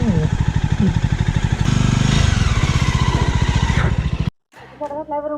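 A motorcycle rides up the approach road to the gate of Pratapgad Fort, its engine close and loud with a steady pulsing putter that rises and falls with the throttle before cutting out briefly.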